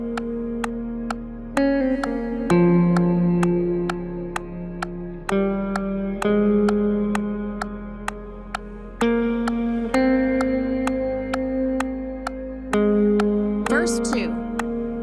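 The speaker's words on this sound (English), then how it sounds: "the reverb is turned way up." An electric guitar plays through a Headrush unit with reverb turned way up. Single notes and chords ring out one after another with long washy tails, and a brief swirling effect comes near the end.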